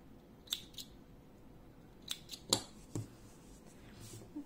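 Scissors snip crochet yarn in a few quiet, sharp cuts close by, separated by short pauses in a calm room.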